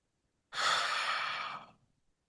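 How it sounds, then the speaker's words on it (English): A single deep, airy breath is taken during a yoga breathing exercise, close and soft, lasting about a second before stopping in silence. "After breathing in deeply, hold breath for 6 seconds."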